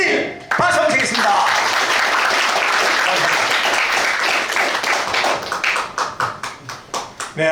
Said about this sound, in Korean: 최세진 박수 드리겠습니다.